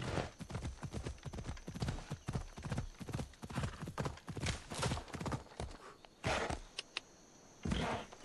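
Rapid hoofbeats of a horse galloping in the video game Assassin's Creed Odyssey clatter in a steady rhythm, close and loud, with a few brief thuds and pauses near the end.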